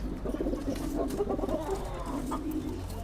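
Siraji pigeons in a cage coo and cluck close by, a steady run of soft, throaty calls with faint rustling behind them.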